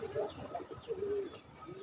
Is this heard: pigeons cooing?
yes